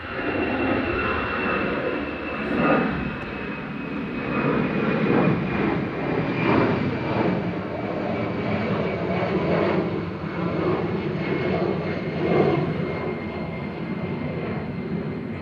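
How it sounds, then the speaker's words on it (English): Air France Airbus A319 taking off from Manchester Airport, a sustained loud jet roar with a high engine whine that stays steady as it climbs away, no voices. "So this is Air France departing, the little A319 back to Paris Charles de Gaulle with flight 1169."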